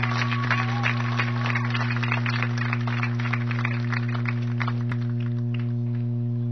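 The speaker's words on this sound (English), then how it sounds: "Let's give a big round of applause for Jeannie Calamar." Audience applauds Jeannie Calamar at an awards ceremony marking her departure after six years of leadership: a steady, dense patter of clapping that runs throughout, partly masked by a loud, constant electrical hum.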